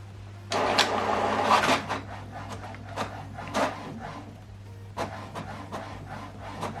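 An HP printer runs a double-sided colour print job, with rhythmic mechanical whirring and paper-feed clunks and a steady low hum throughout, fairly close.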